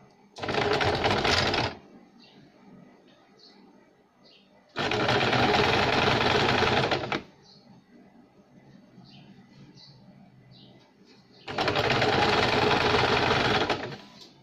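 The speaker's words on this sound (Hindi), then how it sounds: "इसे हम इस तरह से फोल्ड करके एक सिलाई लगाएंगे।" A sewing machine stitches baby capri fabric in three bursts of steady, fast whirring, each lasting two to three seconds and separated by quiet pauses with faint handling noises.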